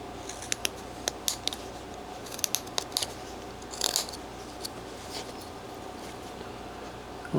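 A carving knife cuts into a wood carving, making sharp scattered clicks and scrapes, quiet and close, over a low steady background hum.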